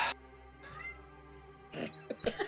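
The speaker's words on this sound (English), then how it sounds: "Cat" A cat meows in a room during a tabletop role-playing game session, with a drawn-out cry near the middle followed by a couple of louder, sharper calls toward the end over a low background hum.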